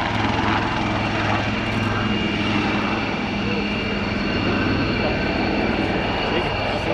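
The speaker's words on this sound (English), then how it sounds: "the lead aircraft departs" A Royal Navy Wildcat military helicopter departs at an air day display, its rotor and turbine roar loud and steady throughout, with a commentator's voice partly blended under the engine noise.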